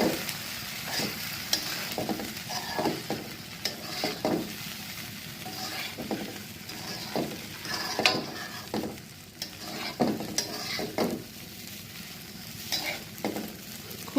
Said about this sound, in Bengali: নেড়ে চেড়ে সবজির সাথে চিড়াটাও ভেজে নেব